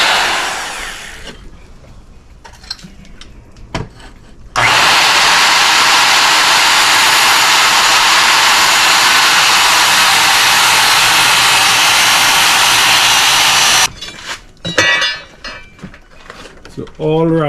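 A power saw cuts roofing rafters at a 3-in-12 angle in a woodworking setting, a loud steady whine running for about nine seconds, with quieter handling clatter and brief talk before and after.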